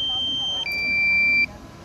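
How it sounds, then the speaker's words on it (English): A DJI Mavic Air drone controller's low battery warning: a steady high-pitched electronic beep holds, steps to a slightly lower tone, then cuts off, over a quiet background hum. "it's beeping quite early, I would say"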